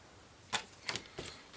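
A Cricut cutting machine presses small indent guide marks into card, giving three quick, faint, crisp clicks spaced about a third of a second apart in a quiet room.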